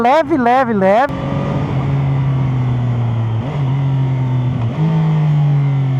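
A Chinese three-cylinder motorcycle with a quick shifter gives a few quick revs, then accelerates in a steady close engine drone that steps up twice through fast gear changes.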